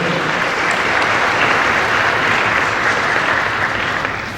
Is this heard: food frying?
no